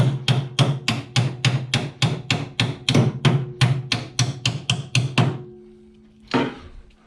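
A hammer taps a washer home onto a front suspension fitting: about sixteen sharp, evenly spaced metallic knocks in a quick steady rhythm, close and loud, then a pause and one last lighter strike.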